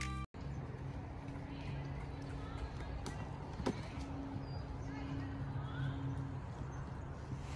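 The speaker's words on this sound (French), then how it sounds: "Donc là, premier passage sur la barre au sol au galop et la jument ne change clairement pas de pied." A mare canters over a ground pole in a riding session. Muffled hoofbeats thud faintly under steady wind-like background noise.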